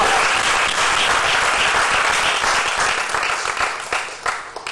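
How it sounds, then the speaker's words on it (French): A comedy show audience claps loudly and steadily as a comedian makes his entrance, dense applause that thins slightly toward the end. "applaudissez très fort pour Roncia"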